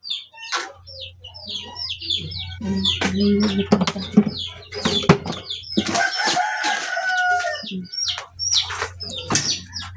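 A flock of chickens and a rooster fill the air with overlapping crowing, clucking and chirping, some near and some farther off, over a constant low hum that runs throughout.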